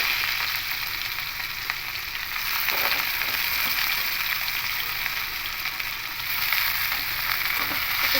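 Snake gourd, squeezed of its water, is stirred and fried in hot oil for a vegetarian coconut dish, giving a steady, fairly loud sizzle throughout with occasional stirring scrapes and no talking.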